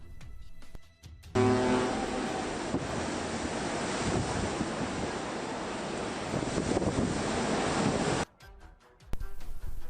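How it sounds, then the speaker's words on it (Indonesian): Large storm waves crash around a cruise ship at sea, recorded from land; a roaring wash of surf and wind that cuts in suddenly and holds steady for several seconds before dropping away. "kapal pesiar berlayar menghadapi badai dan ombak besar"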